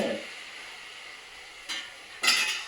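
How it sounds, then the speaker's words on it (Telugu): Onion, cut green chilies and leafy greens sizzle in hot oil for a moringa chicken curry, a steady soft frying hiss broken by two bursts of stirring, with no voices. "ఆయిల్లో ఆనియన్ను, కట్ చేసిన పచ్చిమిరప, ఆకుకూర"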